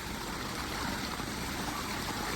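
Floodwater flows into low-lying houses along Daang Tubo in San Mateo, Rizal, giving a steady, dense rushing wash that holds level throughout with no voices.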